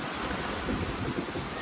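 Sea waves wash ashore in a dense, steady roar of surf and foaming water, close by and constant through the short stretch.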